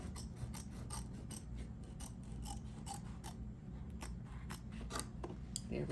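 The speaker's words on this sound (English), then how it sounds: "So out come the applique scissors." Applique scissors snip repeatedly through fabric in quick, uneven clicks while trimming an embroidery piece, close up over a steady low mechanical hum.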